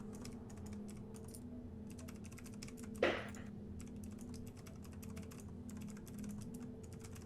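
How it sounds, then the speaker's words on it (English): Rapid keyboard typing clatters steadily in the background at a low level, a dense run of soft clicks with one sharper knock partway through, set against a faint hum. "You just hear Furious typing in the background."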